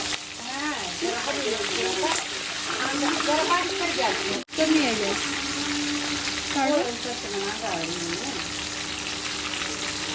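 Green chilies for vada pav fry in hot oil with a steady, continuous sizzle throughout, a voice talking over it and a brief dropout near the middle.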